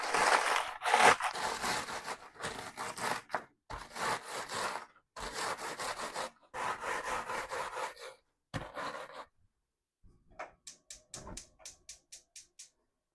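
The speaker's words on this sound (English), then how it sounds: "Let me get these crushed up." Something being crushed in the kitchen: repeated rough grinding bursts in an even rhythm, followed by a quick run of sharp clicks.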